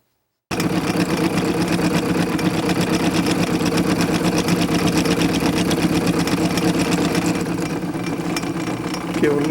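A drill press set up as a milling machine cuts its final pass, a loud, close, steady mechanical whir with a fast rhythmic chatter that runs unbroken after a brief silent start.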